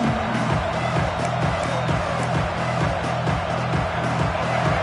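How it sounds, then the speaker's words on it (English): Stadium crowd noise from the College Football 26 video game during a third-and-goal red zone stand, a steady dense roar with rhythmic pulsing, sustained throughout at moderate level. "And here comes the noise. This crowd is trying to inspire this defense to make a big red zone stop."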